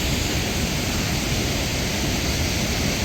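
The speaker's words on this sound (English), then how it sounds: "I've got no idea if you can hear me, because this waterfall is quite loud." Loud, steady roar of the waterfall at Aysgarth Falls in Yorkshire, a dense continuous wash of rushing water that fills the whole clip with no pauses.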